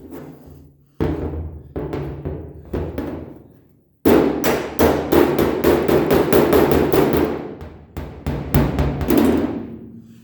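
A hammer strikes a dented car body panel held against a dolly, a few spaced metallic blows giving way to a fast, loud run of ringing hits, then a short pause and several more.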